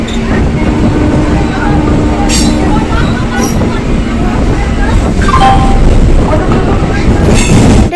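A slow, late-running train rolls along with a steady, loud low rumble and faint rail clatter, close by and continuous, with a few brief high squeals and some background voices.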